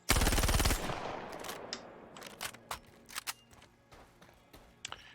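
Gemini C54 submachine gun fired in the game Star Citizen: a loud rapid burst of automatic fire at the start, followed by scattered single shots and clicks fading out, no talking.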